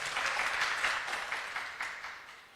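Audience applause at an awards ceremony in Moradabad, a steady wash of clapping that holds fairly level and then fades gradually over a few seconds.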